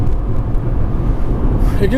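A 2016 VW Polo with a 1.4 litre TSI engine accelerates, heard from inside the car as a loud, steady low rumble, with a voice talking over it.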